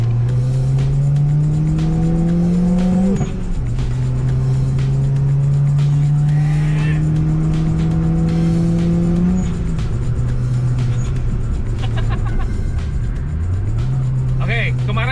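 A turbocharged Honda Brio revs hard on a test drive, its loud, steady engine drone rising in pitch through gears with brief drops at shifts, close and constant, while people talk over it.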